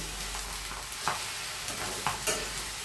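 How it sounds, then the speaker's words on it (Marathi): Steady sizzling of mixed vegetables with hyacinth beans frying in hot oil in a wok, with a few scraping stirs of a spatula against the pan. "सगळं तेलात भाजून घेऊयात."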